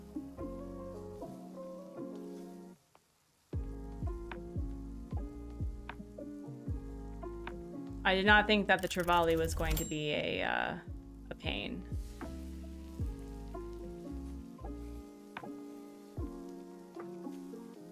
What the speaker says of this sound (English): we're gonna turn off the sizzling sound because the sizzling sound's actually bothering me a little bit